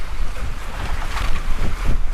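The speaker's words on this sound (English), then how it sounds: "It's a lot smoother on this tack, which is a nice thing." Sailboat on a tack moving through ocean waves, with water rushing and splashing along the hull and steady wind buffeting the microphone, loud and close.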